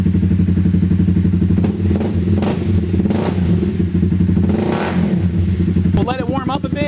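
A 2016 Honda CBR 300R flat tracker motorcycle idles close by with a steady, throbbing engine note, then revs sharply in rising and falling bursts near the end, with faint voices in the background.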